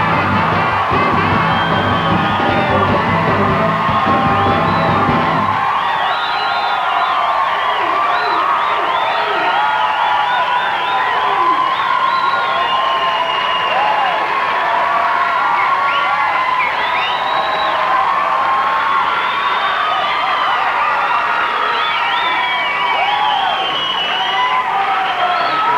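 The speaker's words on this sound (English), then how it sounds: "Thank you for that unsolicited applause" A studio audience bursts into loud, sustained applause and cheering with whoops, a dense continuous roar that holds at full strength throughout, opening with a musical sting under the crowd noise.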